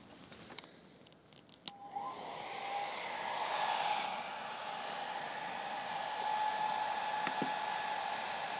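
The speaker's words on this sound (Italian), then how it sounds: "Questo è un asciugacapelli da 1200 watt." A 1200 watt hair dryer switches on and runs steadily at its lowest power setting, a continuous airy whir with a faint tonal whine, alone without talk after a few clicks at the start.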